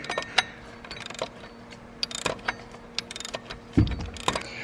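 A ratchet clicks in quick, uneven bursts while a pulley bolt on a Porsche Cayman is loosened. The clicks are close but fairly quiet, ending with a heavier clunk.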